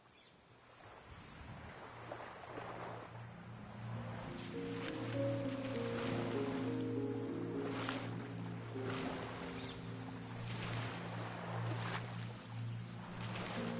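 A game character wades slowly through water in Nobody Wants to Die, steady sloshing and swishing rising after a quiet start and continuing under a low droning tone, with no talk.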